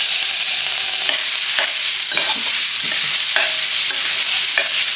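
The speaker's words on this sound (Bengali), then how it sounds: "এটাকে ফোড়নে দিয়ে দিলাম, এবারে আমি ডালটাকে এর মধ্যে ঢেলে দেব" Dal poured into a hot dried red chili tempering and stirred, producing a loud dense sizzle with regular stirring scrapes and clinks, no voices.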